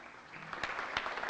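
Applause at a 2012 chamber of commerce awards gala, a brief patter of clapping from the audience with a few sharper claps standing out, fairly steady and moderately loud, with no voices.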